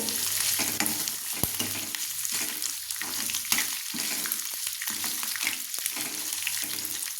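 Potatoes tossed into a hot pan for green poha and stirred, with a continuous sizzle broken by repeated rhythmic scraping strokes of a spoon, close up and without voices.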